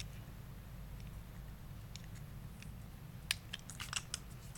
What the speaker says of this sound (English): take your tag in on your mono or fluorocarbon and cut it as close as possible.